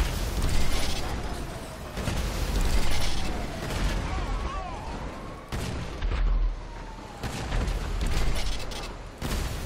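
Explosions and wreckage in GTA 5 Online tank mayhem on a highway: repeated heavy bursts and crashing impacts over a constant rumbling mix of game noise, with metallic creaks and a faint siren-like whine, loud throughout.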